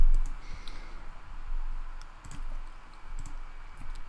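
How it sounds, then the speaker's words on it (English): Computer keyboard keys are pressed in a few scattered, separate clicks against a low background hum, close and fairly quiet, with no talking. "Let's press something else on the keyboard."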